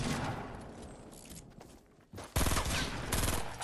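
Video game gunfire in a shooter match, a dense fusillade of rapid shots that drops out briefly, then returns in loud sustained bursts.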